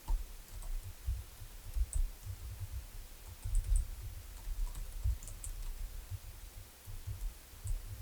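Typing on a computer keyboard, heard as faint, irregular soft key clicks and taps scattered over several seconds against a quiet room background.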